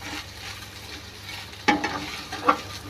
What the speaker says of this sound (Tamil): தேங்காய் கொட்டி கிளறிட்டு இருக்கேன்.